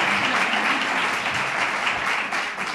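Steady, dense applause from an audience at a 2019 Izquierda Unida political candidacy presentation, loud and sustained throughout with no voices over it.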